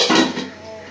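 A lid goes onto a pot of fish curry with a single short metallic clank, quickly fading to quiet.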